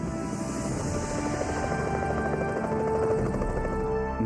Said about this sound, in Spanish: escuché el ruido del rotor del helicóptero